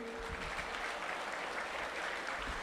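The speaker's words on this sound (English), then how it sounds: "round of applause" Faint, distant applause from a gala audience at an autism charity event, a steady wash of clapping heard from far off.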